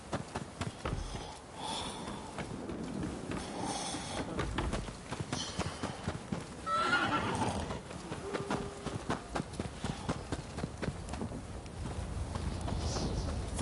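Horse hooves clip-clop in Rise of the Ronin, uneven hoofbeats and shuffling steps with occasional snorts and sniffs, close and fairly loud over a game ambience, no clear neighing and no speech.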